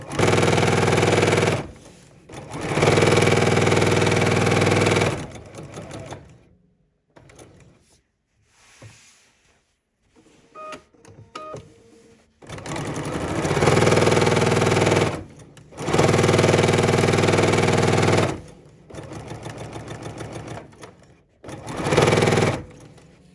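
A sewing machine fitted with a number 10 foot stitches a seam forwards, backwards and forwards again on a fabric trick-or-treat bag, in loud sustained whirring bursts separated by quiet pauses with small clicks and handling noises.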